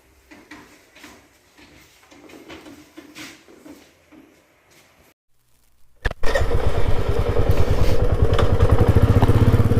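Royal Enfield motorcycle engine with a freshly tightened silencer nut starts up after quiet clatter and then runs steadily, loud and close, with a deep rapid thump that fills the rest of the clip.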